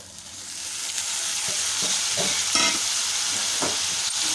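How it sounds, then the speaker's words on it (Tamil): Ripe chopped tomatoes drop into a hot tempering and sizzle steadily while a spoon stirs and scrapes the pan in several distinct strokes, close up with no voices. "நாலு பழுத்த தக்காளி பழத்தை கட் பண்ணி வச்சுருக்கோம் உள்ளே சேர்த்துடலாம்"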